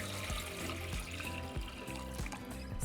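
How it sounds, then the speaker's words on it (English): Water pours into a saucepan over dried chile peppers, making a steady, close trickling and splashing sound. "We're going to cover them with water"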